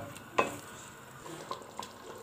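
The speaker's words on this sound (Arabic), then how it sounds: "وبعد ما تسبك وفقفق اهو، ننزل بقى ببقيه الطماطم كلها." Tomatoes simmering in a pot, a soft, low sizzle and faint bubbling with one sharp stir or utensil tap near the start, quiet and close, no voices.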